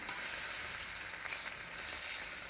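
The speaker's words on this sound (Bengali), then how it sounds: "এখন নুন হলুদ মাখিয়ে নিলাম নিয়ে ভাজছি" Bata fish coated with salt and turmeric sizzles loudly and steadily in hot oil, a dense continuous frying hiss with no voices.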